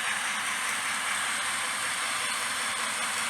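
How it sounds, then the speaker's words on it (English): A model train pulls tank cars and a caboose along its track, making a continuous close rumble with a hissy, rolling texture and no voices. "Finally got to run some tank cars."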